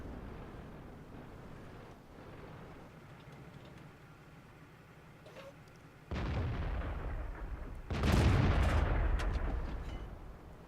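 In World of Tanks, an AMX CDC tank gun fires with a heavy, booming blast, followed a moment later by a second louder, roaring burst. Both ring out over a low engine rumble, close and loud, with no talk.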